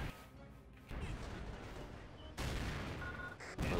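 Heavy mortar artillery fires during a final desperate assault in a war game: a few booming impacts over a constant din of distant gunfire and crashes.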